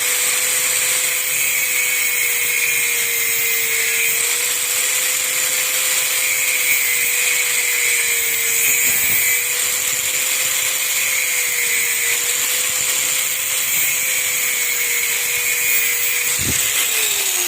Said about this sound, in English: We have a standard grinder